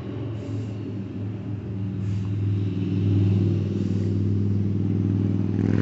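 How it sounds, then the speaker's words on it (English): A motorcycle rumbles past nearby, its low engine growl swelling and holding steady in a continuous pass with a faint clattering edge. "sorry about the motorcycle."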